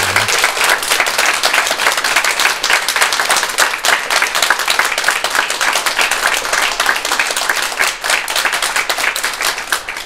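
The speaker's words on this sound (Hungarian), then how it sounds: "köszönöm a tapsot" Audience applause fills ten seconds with dense, steady clapping from many hands at a constant loudness, with no talk over it.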